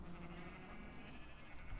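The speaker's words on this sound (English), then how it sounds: "the brown sheep are here" Brown sheep bleat on a farm, a low wavering call heard faintly among soft background noise.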